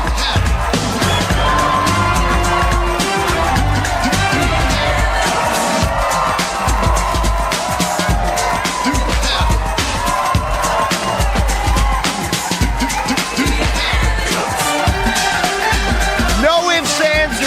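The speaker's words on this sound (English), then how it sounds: "Listen to this crowd rock." A large arena crowd roars and cheers as three young athletes take a victory lap at a kids' sports competition, a dense, loud, continuous wall of noise with a voice talking over it.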